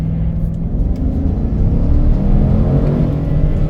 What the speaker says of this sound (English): Redlined it a little bit on accident, because I forgot that's what Chevys or GMs do.